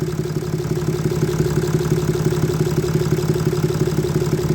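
A Mercedes Vito 639 3.0 engine idles with a steady, rhythmic knocking clatter from under the cylinder head, loud and close, with no voices.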